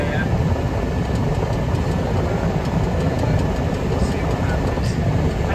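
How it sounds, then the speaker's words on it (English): A farm tractor labours up a bank during silage harvesting, its engine a loud, continuous, strained drone holding steady throughout. "now the tractor's going to struggle to even get up this bank"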